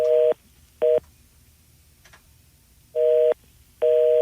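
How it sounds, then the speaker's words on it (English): Busy signal on a cell phone call: four bursts of a steady electronic tone, two quick ones then a pause and two more, each cut off cleanly, with quiet line hiss between and no voices. "How could my cell phone be busy?"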